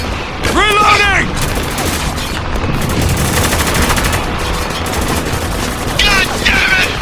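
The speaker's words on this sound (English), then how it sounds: "Taking heavy fire!" Heavy automatic gunfire from the Spec Ops: The Line shooter game rattles in continuous loud bursts. Shouted voices cut in over the fire.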